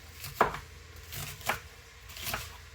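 A knife chops ingredients for a hearty sirloin steak stew, three distinct cuts on a board spaced about a second apart, close and moderately loud.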